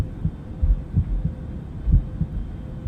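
Muffled, low heartbeat thuds pulse in irregular pairs beneath a steady low hum, as in a tense dramatic reading set aboard a plane.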